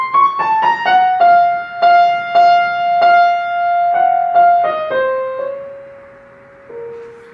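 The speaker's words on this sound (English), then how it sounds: "The right hand melody being sentimental, nostalgic, and melancholy is another signature of Chopin's earlier nocturnes" Solo piano plays a slow, sentimental right-hand melody in the style of an early Chopin nocturne, single sustained notes stepping downward and ringing out clearly, with the final tones decaying into near quiet.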